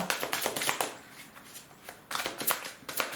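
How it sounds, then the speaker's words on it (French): A deck of tarot cards is shuffled close up in quick riffling bursts, pausing for about a second before another flurry of shuffling and flicking as cards are drawn; no voice. "Allez, on va prendre 9 cartes."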